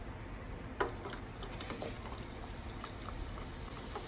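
Funnel cake batter sizzles faintly in hot oil on low heat, a soft continuous bubbling and crackle with a small splash as it goes in.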